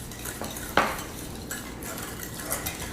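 A spoon or whisk clinks and scrapes in a bowl, mixing brown sugar and white wine vinegar into a coleslaw dressing. One sharp knock is followed by lighter, irregular taps and swishes, close and clear, with no talking.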